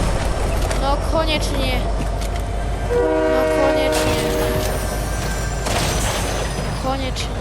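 A train in a video game rumbles continuously while its horn sounds in several separate blasts, mixed with clattering and sharp bursts of game effects.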